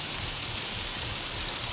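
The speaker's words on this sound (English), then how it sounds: "Can't see shit with the sprinkler system on, though" Sprinkler-system rain pouring indoors in the horror video game Outlast, a steady, dense hiss of falling water filling the space evenly and loudly throughout, with no voices.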